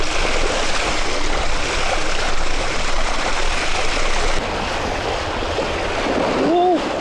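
An e-bike ploughs through deep water, giving a continuous loud broadband rush of splashing and churning water throughout, with a brief whistling tone near the end.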